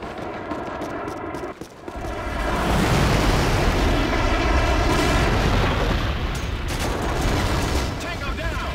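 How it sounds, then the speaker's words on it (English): Airstrike explosions and rumbling aircraft in Call of Duty 4 on the Wii, a sustained loud roar of blasts and booms that swells after a brief lull and keeps going to the end. "Airstrike on the way!"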